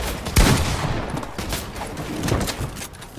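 Rapid gunfire in the Fortnite video game crackles in a dense, steady burst with one sharp crack near the start, loud and continuous throughout.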